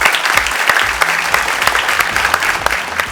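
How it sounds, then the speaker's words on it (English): An audience claps loudly and steadily for a school debate team in a televised inter-college competition, a dense, even wash of applause close by with no talking. "I think the team deserves a big round of applause."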